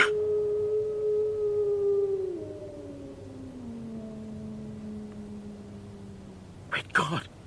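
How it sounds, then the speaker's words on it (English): A hound howls on a dark moor in a radio drama sound effect, a long, eerie, wavering tone that slides slowly downward and fades, ending in a brief burst of voices. "They say it's the cry of the Hound of the Baskervilles."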